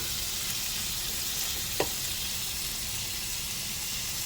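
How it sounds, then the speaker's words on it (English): Shrimp cook on a grill for a chicken and shrimp fettuccine Alfredo, giving a faint, even hiss of sizzling with one brief click partway through, and no voices. "I'm about to throw these on the grill now."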